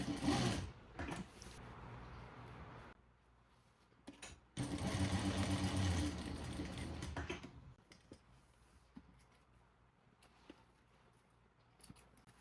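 A sewing machine stitches elastic onto cigarette-style trousers in bursts of rapid mechanical whirring, one long close run in the middle, with quieter clicks and pauses between.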